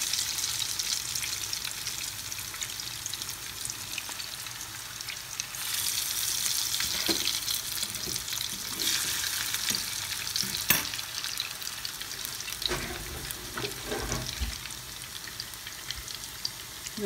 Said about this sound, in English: And this is how we're going to let them fry.